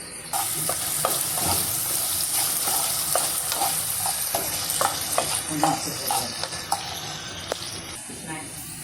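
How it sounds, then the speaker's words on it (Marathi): Potatoes roast crisp in a pan with a constant frying hiss and repeated spatula scrapes and light clinks throughout; faint speech may sit underneath. "खरपूस भाजून घ्यायचं बटाटा"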